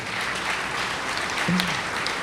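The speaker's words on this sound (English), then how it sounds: "So we should give ourselves a nice round of applause." At an Italian-American heritage celebration in Brooklyn, an audience breaks into a short round of applause, a steady wash of clapping lasting a couple of seconds with a brief low tone near the middle.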